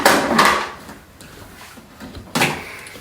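A food processor lid is pushed shut while mulberry jam is being made. Two close, sharp clunks come about two seconds apart, the first with a brief rattle, and there is quiet handling in between.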